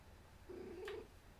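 A house cat gives a single short, drawn-out vocalization, a soft tonal call rising slightly and lasting about half a second, fairly faint in a quiet room.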